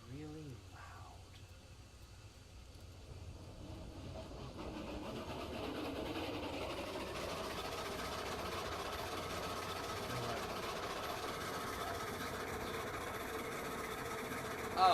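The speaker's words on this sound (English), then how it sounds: "We're going to go ahead and pull this train forward." Climax geared steam locomotive pulling a train in the Railroads Online video game, a loud steady chugging and engine rumble that builds after a few seconds and runs continuously, with a voice briefly heard at the start.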